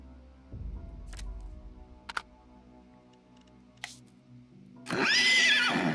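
A horse neighs loudly near the end, a rising and falling whinny, after quieter game clicks and a low rumble in the PC game Sultan's Game.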